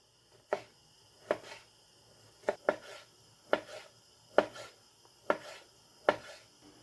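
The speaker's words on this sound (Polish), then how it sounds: "Polędwica pokroimy w paski" A knife slices beef tenderloin into strips across the grain on a board in eight evenly spaced thuds, close and crisp, with quiet between strokes and no talking.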